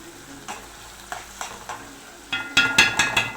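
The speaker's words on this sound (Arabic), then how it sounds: "نفضل نقلب في البصل عشان مفيش حاجه تتحرق" Onions frying in a pan are stirred with a utensil, several scraping strokes over a low sizzle that grow louder and sharper in a cluster of clattering scrapes near the end; no talking.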